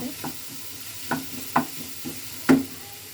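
Masala spices for mushroom masala fry in a pan with a soft, low sizzle, broken by five or so sharp stirring taps and scrapes at uneven intervals, near and quiet.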